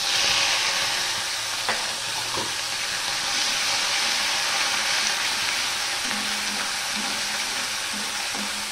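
Chopped ginger drops into hot oil tempered with whole spices for a vegetarian potato curry, setting off a loud, constant sizzle and crackle with occasional stirring scrapes.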